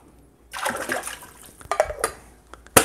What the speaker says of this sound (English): let me dump this water out first.